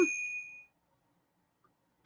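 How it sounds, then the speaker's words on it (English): A phone gives a single bright notification ding for a live stream, one short clear chime that fades quickly into near silence with a faint click afterward. "now my phone's going to go nuts. It's a notification for my stream"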